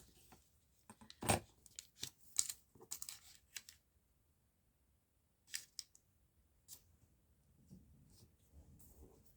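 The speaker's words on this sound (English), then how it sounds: "I'm just going to tear this in half." A 12x12 paper pack cover sheet is torn in half by hand, with close crinkling and ripping bursts, sharp crackles early on, a quiet pause, then a few more rustles and tears.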